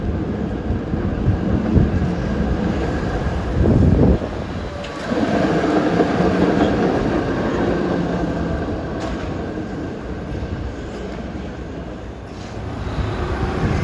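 A historic PCC streetcar on San Francisco's Muni F Line rumbles steadily along the rails on 7th Street nearby, with a low rolling drone, some clanks and faint wheel squeal, no talking.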